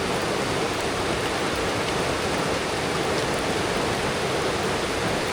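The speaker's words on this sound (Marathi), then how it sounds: "कोकणातला मुसळधार पाऊस" Heavy monsoon rain pours beside a river in Konkan, a dense, unbroken hiss of downpour and rushing water, loud and steady throughout with no voices.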